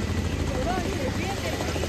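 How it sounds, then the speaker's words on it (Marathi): A helicopter circles overhead during an Indian Navy Day celebration, making a steady rotor drone. Crowd chatter and voices run over it throughout. "हेलिकॉप्टर बघा फिरतंय कसं"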